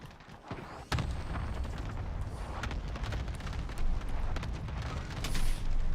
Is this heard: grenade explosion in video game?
yes